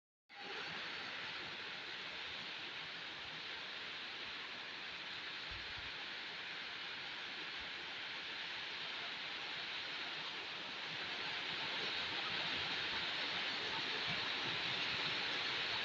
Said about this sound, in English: It's raining. It just started raining